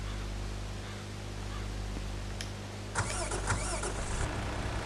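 A tractor engine in Farming Simulator 17 cranks and catches after a couple of attempts, a steady low rumble giving way to a louder, rougher running sound in the second half.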